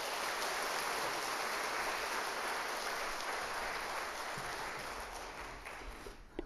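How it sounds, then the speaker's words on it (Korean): A church congregation applauding, a dense, continuous wash of many hands clapping at moderate distance, steady for several seconds before thinning and fading out at the end. "하나님께 영광의 박수, 그 교수님에게는 격려의 박수를 한번 보내드리도록 하겠습니다."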